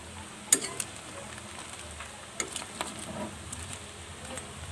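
Softened squash is stirred in a frying pan, giving a low sizzle with a few scraping clicks of the utensil against the pan, faint and close.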